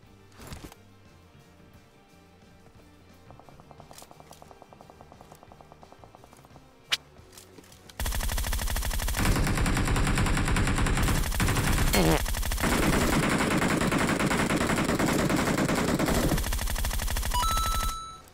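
PUBG Mobile gunfire: scattered quieter shots at first, then a sudden loud, sustained burst of rapid automatic fire that runs nearly to the end, with brief pauses.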